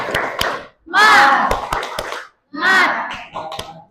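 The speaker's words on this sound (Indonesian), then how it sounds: "Kita coba sekali lagi. Tepuk semangat." A group performs a rhythmic spirit clap (tepuk semangat): sharp, close hand claps fall in a set pattern between loud, unison shouted chants from the crowd.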